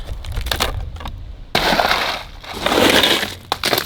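Ice block smashed with a Western Mordax Venom Long Strike axe: a sharp glassy crack and crunch of shattering ice, then a second louder crushing burst with scattered fragments, close and loud with no talk.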